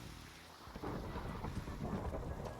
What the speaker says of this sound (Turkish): Çok güzel yağmur yağıyor.